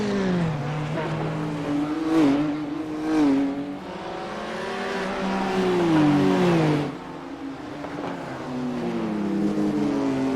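GT3 race cars, including a BMW, roar around the Mount Panorama circuit, with engine notes rising and falling through gear changes and a sustained loud drone that drops sharply partway through before building again.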